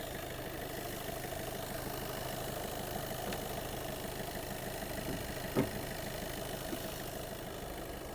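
Skoda Octavia A7 2014 with a 1.6 TDI diesel engine idling under the open hood, a steady continuous hum at moderate level with no talk, one brief click partway through.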